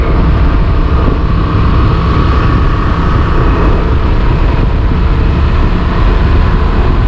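Honda Transalp motorcycle engine on a test ride, a steady loud broadband drone with wind rush that holds constant throughout, no clear shifts or pauses.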